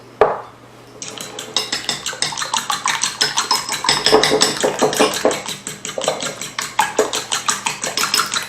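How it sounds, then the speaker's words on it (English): A utensil whisks eggs in a bowl for keto cornbread muffins. Rapid, steady clinking and scraping sounds up close and grows busier after the first second, with no talk. "Let's start off by beating the eggs"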